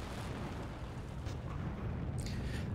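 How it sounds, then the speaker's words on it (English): A rocket stage separates and its engine fires in Kerbal Space Program with the Realism Overhaul mod, heard as a steady, low, continuous roar with no talking. "So we're going to separate and fire the next stage."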